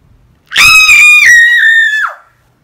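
A person imitates a horse scream: one loud, shrill, sustained vocal shriek lasting about a second and a half, close up, ending in a falling squeal.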